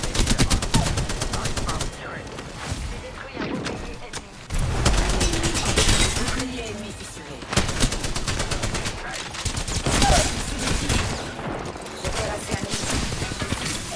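Distant gunfire in the Apex Legends video game, with repeated rapid bursts and scattered shots running throughout over busy game sound, while a player talks over the action.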